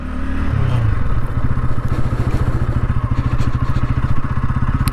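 A fuel-injected motorcycle engine running close and loud, its rapid, steady firing pulses broken by uneven jerks, with some clatter at the start.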